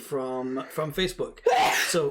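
A single sharp sneeze bursts out loud and close right after a man's speech, breathy and abrupt.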